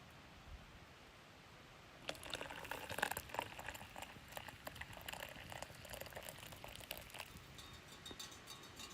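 After a quiet start, soft bubbling and crackling of water boiling for coffee outdoors in the mountains begins and continues steadily at low volume.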